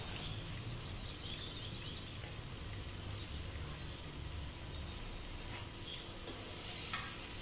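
Chopped onions with salt stir-fry in oil for biryani, giving a faint, even sizzle throughout with occasional light stirring scrapes and no talking.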